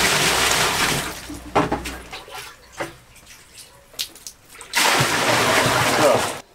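Rainwater pours and splashes into a mortar tub in two loud bursts, with quieter drips, clunks and handling noises in between.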